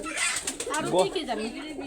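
Pigeons of several breeds at a pigeon farm coo in overlapping, warbling bursts, close and fairly loud, with a low rolling murmur.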